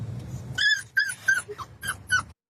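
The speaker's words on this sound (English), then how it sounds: "It's a little golden retriever puppy in front of the vent in the car." A golden retriever puppy sitting in front of a car's air vent whimpers in a short run of high, thin cries over a low rumble of the car, five or six close whines in quick succession.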